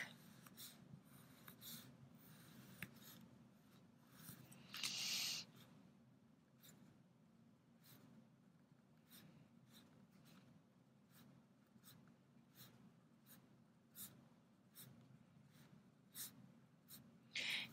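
Colored pencil burnishing on shrink plastic gives a quiet, close scratchy rubbing in repeated strokes, with a few sharper rasps along the way.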